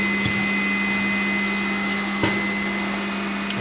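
A Chiron FZ08KS MAG machining center spindle spins at 12,000 RPM, giving a steady, even mechanical whine and hum throughout, broken by two brief faint clicks near the start and middle.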